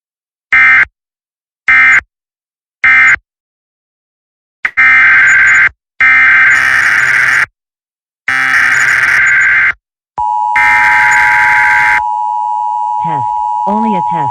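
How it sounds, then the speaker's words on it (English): Indiana Emergency Alert System test tones: three short identical bursts, then longer harsh buzzing data tones and a sustained steady attention tone, loud and electronic with a voice speaking near the end. "This is a test of the Indiana EAS system."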